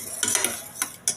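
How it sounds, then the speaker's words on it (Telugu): A ladle mashes cooked masoor dal in a pot, making a few soft, wet knocks and scrapes in an irregular rhythm over a quiet background. "మనం గరిటెతో ఇలా కుట్టేసుకుంటే చాలు."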